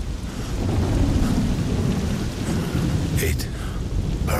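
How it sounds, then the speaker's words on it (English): Steady heavy rain with rumbling thunder in the video game Observer System Redux, a loud continuous downpour with a low roll building and a brief sharp crackle near the end. "Don't mind the rain?"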